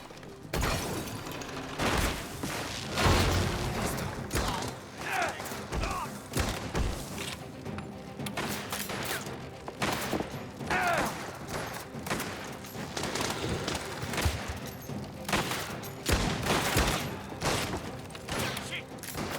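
Sustained gunfire in Mafia: The Old Country, with dense bursts of rapid shots and heavy thuds in a loud firefight, nearly continuous throughout with brief lulls and voices shouting in between.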